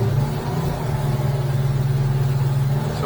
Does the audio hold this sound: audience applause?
no